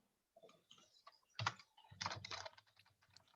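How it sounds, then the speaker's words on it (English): Computer keyboard typing in short bursts of quick clicks and clacks, close and fairly quiet, with an irregular rhythm and a brief pause between flurries. "While you're typing"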